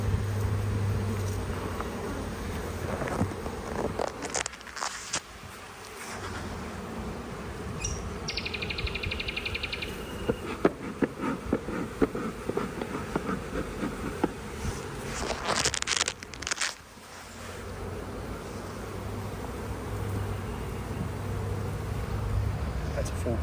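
Honeybees buzz in a dense, continuous drone around an open hive with brood frames pulled during an inspection, close by, while people talk intermittently over the swarm.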